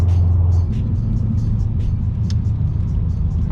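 Loud, close engine and exhaust drone from a tuned Subaru BRZ with a header and catback, heard from inside the car on a night drive, a heavy steady low rumble that surges briefly at the start.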